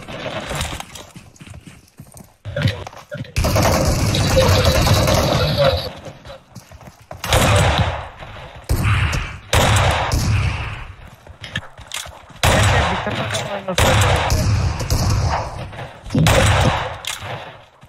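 Gunfire in the battle-royale game PUBG Mobile, fought at a bridge ambush, with sharp bursts of shots coming in clusters between quieter gaps while a player talks excitedly over the action.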